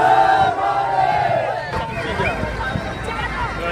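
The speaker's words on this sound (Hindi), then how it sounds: "ये देखो पूरा क्राउड, कितना ज़्यादा भीड़ हो रही थी यार" A large, loud crowd at the Jaipur Ganesh festival procession (Shobha Yatra 2022), with a roaring hubbub throughout and a voice talking close over it.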